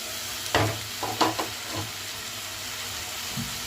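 Tomatoes cooking under a lid in a pan for mint chutney give a steady sizzling hiss, with a few soft clinks and knocks from the pan or lid near the start.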